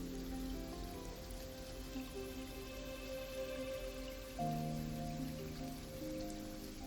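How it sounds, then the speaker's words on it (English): Steady rain patters indoors in the video game Wuthering Waves, a dense wash of drops with faint tonal hum beneath, continuous and moderately quiet throughout. "It's raining inside?"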